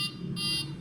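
A fire detection and alarm panel sounds its buzzer after the alarm button is pressed, giving a steady, close, piercing electronic tone that pulses slightly for under a second.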